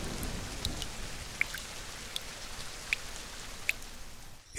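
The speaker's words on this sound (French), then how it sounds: "Écoute ces gouttes de pluie." Steady light rain patters throughout, with a few distinct drops plinking louder at irregular moments against the soft background wash.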